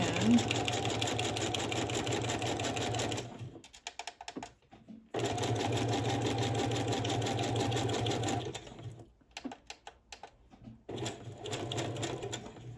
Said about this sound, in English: I'm going to stitch a little past, right? And I'm going to hold on to the card stock.